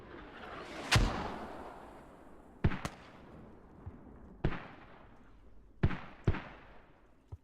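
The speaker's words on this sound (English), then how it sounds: "Mortars incoming." Mortar fire and explosions in a competitive video game match: five sharp booming blasts spaced a second or two apart, each with a rumbling tail over a steady low background.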